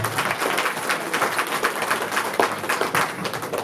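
Audience applause at a meeting, a short burst of steady clapping from a group, moderately loud and close throughout.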